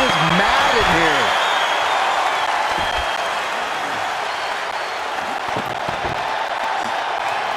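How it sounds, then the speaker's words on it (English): A packed wrestling arena crowd roars and cheers loudly and continuously, a dense wall of voices with scattered applause, while a commentator talks over it near the start. "a packed arena, and we're hearing every single voice. It is loud and it is mad in here."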